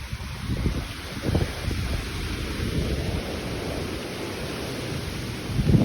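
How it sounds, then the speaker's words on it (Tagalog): Strong typhoon wind in the Philippines, a continuous loud rushing roar with low gusting rumbles, steady and close, with no talk. "Malakas na yung hangin. Rinig na. Pumipito na rin."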